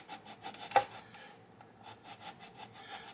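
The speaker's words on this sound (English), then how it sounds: "and just start my sanding" Hand sanding of a plastic model kit part for a U.S.S. Reliant starship build, a soft dry scratchy rubbing repeated in short strokes, close and quiet, with one sharper scrape near the start and no talking.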